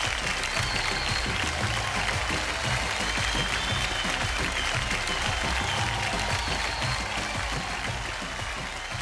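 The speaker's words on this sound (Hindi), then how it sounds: "जोरदार तालियां हो काजल राघवानी जी के लिए" A large audience at a Bhojpuri film award show claps loudly and continuously, a dense, close wall of applause lasting throughout.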